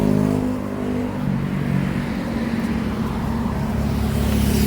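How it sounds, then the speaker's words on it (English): Steady road traffic rumbles through a street in Hua Hin, Thailand, with engines droning continuously and a vehicle swelling loudly nearby at the start, then a constant dense wash of motor noise with no voices. "The traffic right now is starting to pick up."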